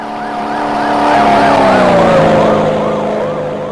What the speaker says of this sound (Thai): รถตำรวจ